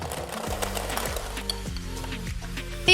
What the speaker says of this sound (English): beat those together with an electric hand mixer until smooth